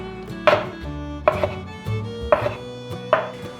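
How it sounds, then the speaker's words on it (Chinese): Four crisp knife strokes chop through softened dried tofu on a cutting board, cutting it into strips, each a sharp close thud spaced evenly in a slow steady rhythm, with no talking. "把豆干切丝"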